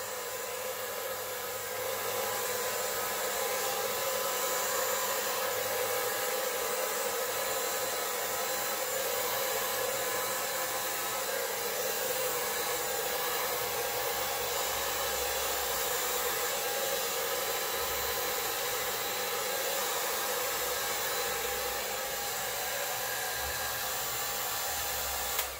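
A hair dryer on its low setting blows steadily across wet acrylic pour paint, producing a continuous, even whirring hiss that runs uninterrupted for the whole stretch with no talking.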